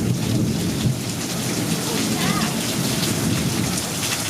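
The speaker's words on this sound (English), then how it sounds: "It's definitely an intense storm." An intense thunderstorm with heavy rain pours down steadily and loudly close by, with low thunder rumbling underneath the dense hiss of rain throughout.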